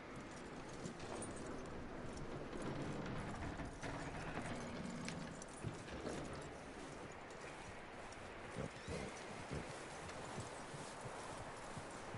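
Horse hooves clip-clopping in the Red Dead Redemption video game, a steady walking rhythm of hoof falls at moderate distance, with faint tack and mechanical clinks beneath and no talk over it.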